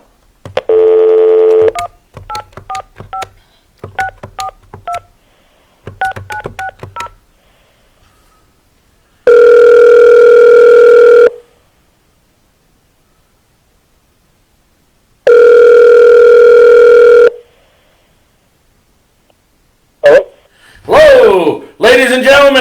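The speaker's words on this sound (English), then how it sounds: "Let's go ahead and get Daniel on the phone" Telephone keypad tones beep in quick clusters on a sports radio call-in line, followed by two long steady ringback tones separated by silence, then a brief garbled burst at the end.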